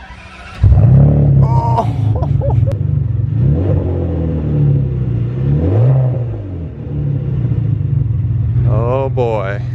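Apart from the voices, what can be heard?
Ferrari V12 engine starting and revving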